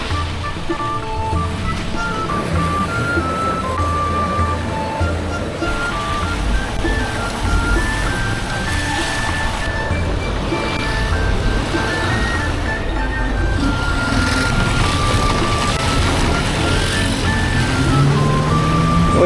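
Road traffic in a congested intersection while following a dump truck, a steady close rumble of engines and vehicle noise continuing without pause, with no talking.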